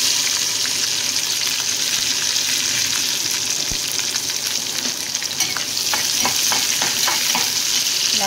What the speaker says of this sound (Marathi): कांदा व्यवस्थित आत्ता फ्राय झालेला आहे मस्तपैकी